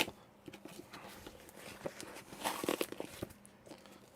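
Packing tape is peeled and torn off a cardboard package indoors in short irregular rips and crinkles, quiet and close, with a louder tearing burst near the middle.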